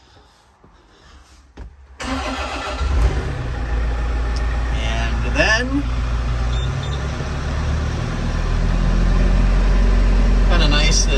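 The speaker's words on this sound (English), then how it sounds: "Let's get the E60 fired up and also the tractor." After a quiet moment, the heavy diesel engine of a Bobcat E60 excavator cranks and catches, then settles into a loud, steady idle; a person speaks briefly over it.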